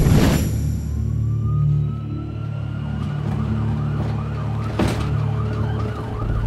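An ambulance siren on an emergency crew's vehicle in Queens, New York, wailing up and down in a steady repeating cycle, fairly close and loud over traffic noise and engine rumble, with a brief honk partway through.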